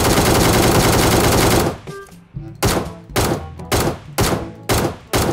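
An ACE32 rifle with the Beam Blast finish in PUBG Mobile fires in a sustained loud burst, then breaks into five or six separate punchy shots spaced about half a second apart, each with a short decaying tail.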